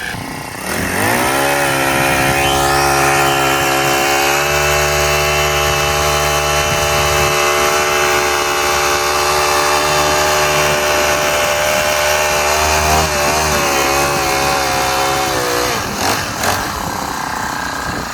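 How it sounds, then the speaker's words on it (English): A small 110 garden tiller runs steadily while mixing soil in an onion bed, its engine purring in an even, continuous drone close by for most of the stretch, with a brief load change near the end. "use this little 110 that's purring like a kitten to just mix it up for us"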